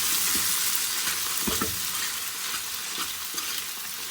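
Garlic and boiled pasta fry in a pan with a constant bright sizzle close to the mic, broken by several clinking stirs and scrapes of a spoon.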